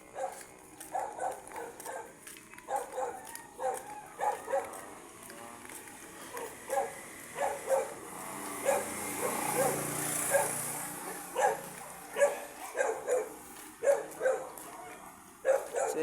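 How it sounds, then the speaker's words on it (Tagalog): Dogs, puppies among them, bark and yip repeatedly in short bursts throughout, moderately close, with some people talking in the background. "Aso."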